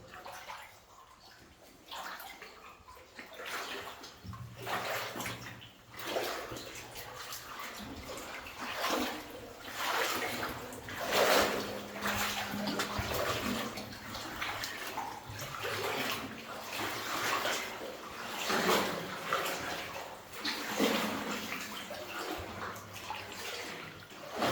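Splashing and sloshing of feet wading through shallow water in a flooded 1890s copper mine, steady and close with irregular surges, echoing faintly in the underground passage.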